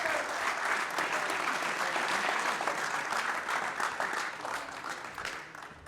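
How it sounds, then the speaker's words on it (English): An audience gives a warm, sustained round of applause for a coach receiving an award at a sports banquet, the clapping broad and even before thinning slightly toward the end. "Give Mr. Kroll a big round of applause"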